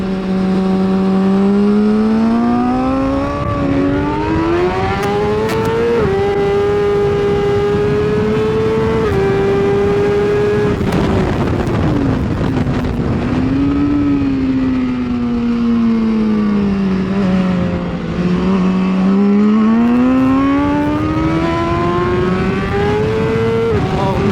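A BMW superbike engine on a hot lap with new tires holds a loud, continuous howl from start to finish, its pitch climbing and dropping through repeated gear changes and throttle swells as the bike works around the circuit.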